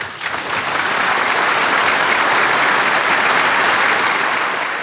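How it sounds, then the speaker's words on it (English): Sustained, dense applause from a large audience in the Canadian parliamentary chamber after King Charles's throne speech, rising quickly to a steady roar of clapping that keeps going without letting up. "Everybody was applauding, and nobody was stopping"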